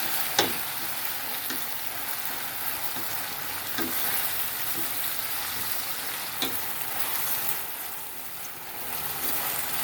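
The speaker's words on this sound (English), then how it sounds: "while your seasoning is frying up, you constantly stir it" Steady crackling sizzle of seasoning frying in a pan, with occasional scrapes and taps of stirring, close and continuous.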